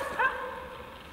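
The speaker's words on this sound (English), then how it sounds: "neighbor's standard poodle in the background is the dog barking." A standard poodle gives a single short bark some distance away in the background, faint and brief in snowy, cold outdoor surroundings.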